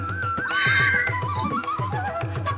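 Horse neighing at a temple horse market, a loud, close whinny rising and falling over repeated low thuds and background bustle.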